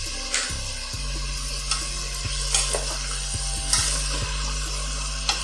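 Vegetables, green peas and cashew nuts sautéing in a pan for a vegetable stew, a steady sizzle with repeated clinks and scrapes from stirring, close and alone.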